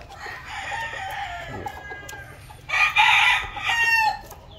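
A gamefowl broodstag rooster, red-eyed with a straight comb, crows loudly nearby in a drawn-out call, with a second strong crow following after a short pause amid quiet yard noise.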